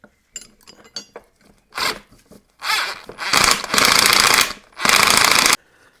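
Metal tools clink and rasp while bolts are tightened up on a flail mower, with several short bursts followed by longer loud ratcheting stretches, close and without talk.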